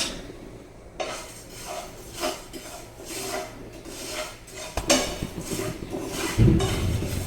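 Sesame seeds and coriander seeds dry-roasting together in a pan for chana and urad dal chutney, with soft scraping and rustling as a spoon stirs them, plus occasional clinks of metal against the pan.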